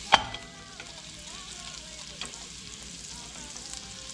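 Butter dropped into a hot pan for sticky chicken gives a sharp initial hit, then a soft continuous sizzle and crackle that stays fairly even and close for a few seconds, with no talking.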